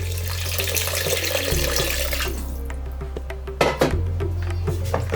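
Water splashes and runs into a pot of curry leaf and garlic kuzhambu, a steady gush with some spattering and clinks, fairly close, over a low background hum.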